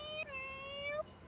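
A kitten in the Galaxy Burger video game gives a short, faint, high mew that bends downward and then holds, over quiet background noise.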